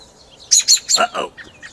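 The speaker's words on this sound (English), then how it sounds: "There's some baby birds back here." Baby birds chirp close by in a quick burst of five or six high, bright peeps lasting about a second, with faint background quiet around them.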